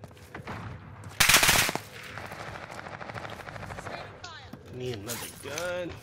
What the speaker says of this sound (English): Someone else is shooting you guys.